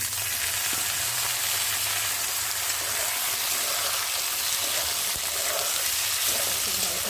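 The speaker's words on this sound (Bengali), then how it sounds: "এখন আমি দিয়ে দেবো কেটে রাখা আলুগুলো দিয়ে ভালো করে ভেজে দেবো।" Cut potatoes fry with onions in a pan, giving a steady, dense hiss and sizzle that holds even and close without a break.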